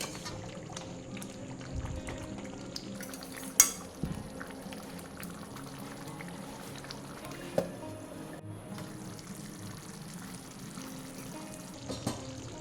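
Nizami dum chicken cooking in oil in a pot gives a quiet, low bubbling simmer, with a few sharp clicks and knocks of a utensil against the pot over a soft steady background.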